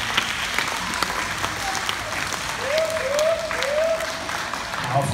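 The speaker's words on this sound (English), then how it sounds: "we want to give them a round of applause for a job well done" Applause at an elementary school Black History program, a crowd clapping steadily at moderate volume, with a voice speaking through the clapping.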